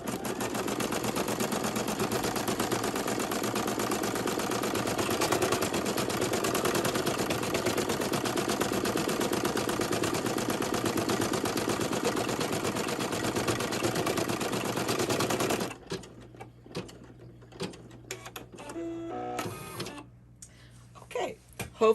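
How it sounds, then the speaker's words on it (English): An embroidery machine sews a placement stitch with a loud, continuous mechanical whirring and rattle for about fifteen seconds, then stops, leaving quieter intermittent clicks and handling noises. "I've already threaded my machine, put the presser foot down, and just let it stitch that."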